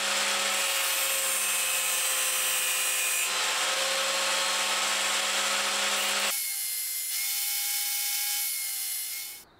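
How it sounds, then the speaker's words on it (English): Grinder working the hex points off a metal barrel nut for a guitar truss rod, a loud high-pitched sustained whine that shifts pitch twice and then winds down. "I'm going to also grind off the hex points of the barrel nut so that it's more circular"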